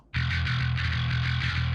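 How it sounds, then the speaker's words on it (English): Heavy metal bass tone with distortion added, a sustained gritty buzzing note that kicks in sharply after a brief quiet start and holds at steady loudness, slightly wavering and alone. "You can add a little bit more distortion with it if you want."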